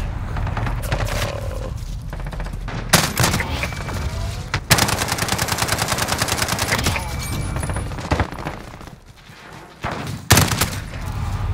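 Shotgun blasts ring out in a video game firefight, several sharp, loud reports spaced irregularly among denser bursts of gunfire and rumbling thuds.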